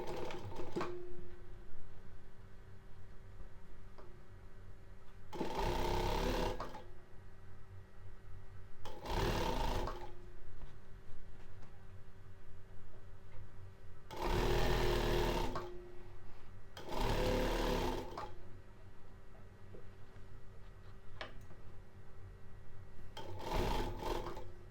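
A sewing machine stitches the seam and topstitching of a circle skirt in several loud, steady bursts of whirring, separated by quieter pauses over a low background hum.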